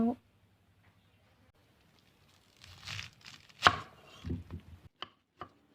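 Bamboo shoots are sliced thinly with a knife for a curry, giving a few scattered cutting and scraping strokes after a near-silent start, close and fairly quiet.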